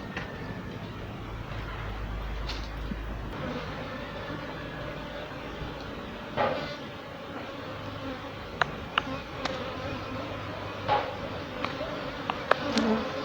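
Steady low hum of honey bees buzzing around an open hive during a spring inspection in Jamaica, continuous and moderately faint, with occasional small clicks and knocks of hive handling.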